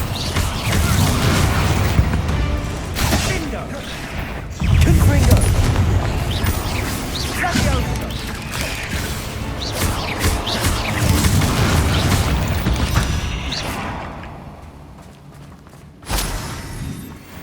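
Spell explosions from combat in the video game Hogwarts Legacy burst out as loud, repeated booms and crackling blasts in quick succession, with a short lull and a final bang near the end.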